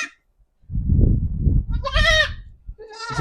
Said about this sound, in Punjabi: ਇਹ ਬੱਕਰੀ ਕੇ ਬੱਚੇ ਹੈਗੇ ਜੀ